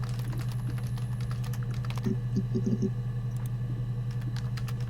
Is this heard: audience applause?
no